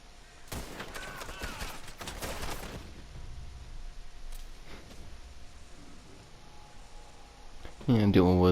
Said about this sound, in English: dual wielding automatic pistols. It's pretty powerful.